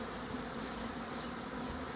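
Dense, steady buzzing of many agitated honeybees inside an opened hive during colony splitting, a continuous close drone with no pauses or other sounds.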